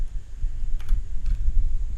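Typing on a computer keyboard while entering data into Google Sheets, with a couple of soft, widely spaced key clicks over a steady low hum.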